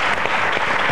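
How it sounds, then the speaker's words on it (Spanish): Studio audience applause on a Spanish television talk show, a dense burst of close, loud clapping that holds steady for the whole moment. "Un aplauso para ella."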